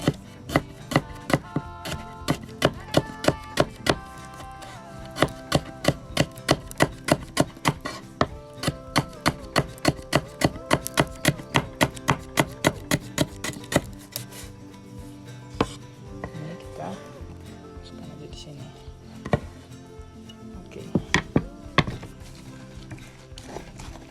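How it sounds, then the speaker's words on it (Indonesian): Lemongrass and spices pounded smooth in a mortar for Makassar grilled konro ribs: steady rhythmic thuds up close, dozens in a row, then slowing to scattered strikes. "Di sini kita tumbuk sampai halus karena flavor serai itu lebih kuat ya, lebih strong"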